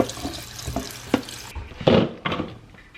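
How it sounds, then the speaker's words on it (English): Cold water from a kitchen tap splashes over cooked pasta in a colander, a rushing, hissing flow that swells and shifts with a few clanks of cookware, close by and without talk. "Let's run some cold water on that."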